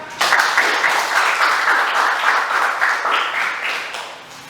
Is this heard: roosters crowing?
no